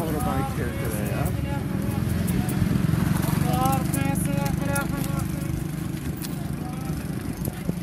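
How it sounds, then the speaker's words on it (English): Motorbike engines buzz and rev steadily in a busy souk street in Aourir, Morocco, several passing close, with people talking over the traffic noise. "A lot of motorbikes here today"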